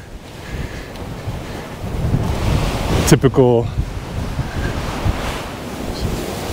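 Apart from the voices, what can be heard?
strong wind outdoors on a freezing day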